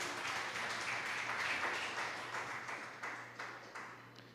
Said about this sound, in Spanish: Demos un aplauso al que vive por todos los siglos.